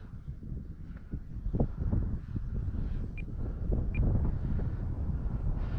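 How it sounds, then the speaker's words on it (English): Strong gusting wind buffeting the microphone at an RC plane flying field, a loud, steady low roar with rushing surges and no voices over it. "Boy, that wind is really bucking her around."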